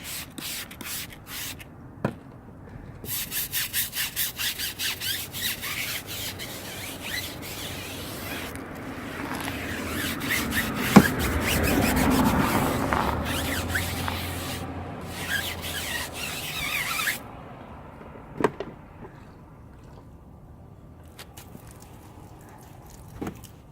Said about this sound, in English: Clean the tire, I use a stiff bristle tire brush.